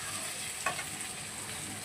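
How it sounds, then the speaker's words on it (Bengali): Fish fat with onion and potato stirred and frying in a pan, a soft steady sizzle with one brief scrape of the spoon, faint and close. "মাছের তেলটা দিয়ে খুব ভালো করে নেড়ে নেবো, যাতে মাছের তেলটা ভালোভাবে ভাজা হয়ে যায়"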